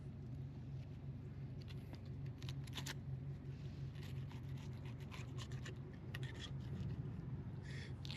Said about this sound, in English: You can use the serrated side to get through the scales, but you don't necessarily need to.